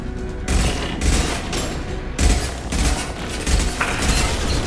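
Gunfire in the video game Mass Effect 2, heavy bursts of automatic fire broken by short pauses, loud and close, with booming impacts and no talking.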